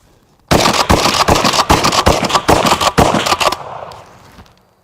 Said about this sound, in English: see how quick we can dump a whole mag of dragon's breath